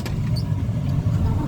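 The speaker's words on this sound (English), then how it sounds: "It's time to actually start the truck." A truck engine idles low and steady close by, a constant rumble with no clear starter crank. No one speaks.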